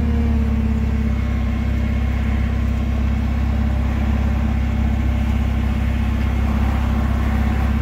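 A Toyota 7FG25 forklift, still cold, idles while its carriage rises, giving a steady, loud, low engine drone with a constant hum and no pauses or voices.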